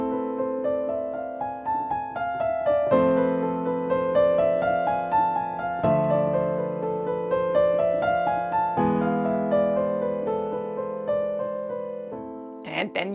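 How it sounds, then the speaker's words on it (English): Solo piano plays a harmonic minor scale in steady triplets while the left hand sounds sustained chords that change every few seconds, clear and close, with no talking. "A harmonic minor scale in triplets now, while the left hand plays the chords."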